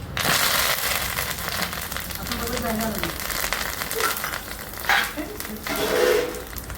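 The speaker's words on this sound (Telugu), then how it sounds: "కరివేపాకు కూడా వేసుకోవాలి." Curry leaves crackle and sizzle in hot oil as tempering for a village-style gongura chutney, a steady close frying hiss with brief louder spits and stirring scrapes.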